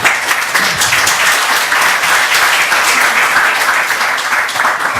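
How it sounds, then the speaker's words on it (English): Loud, sustained applause from a large audience, dense clapping filling the whole stretch without a break. "Can I have another round of applause,"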